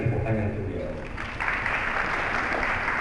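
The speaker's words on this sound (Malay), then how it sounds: "Tepuk tangan untuk dia." Audience applause breaks out at a Malay Islamic talk on young marriage, a steady wash of clapping that swells around the midpoint and carries on loudly to the end, with a voice speaking over the opening moments.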